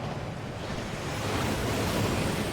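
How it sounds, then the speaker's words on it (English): A waterfall rushes in the Hogwarts Legacy video game, a steady broad roar of falling water that swells slightly louder over a couple of seconds, close and alone with no talk. "That waterfall washes away all enchantments."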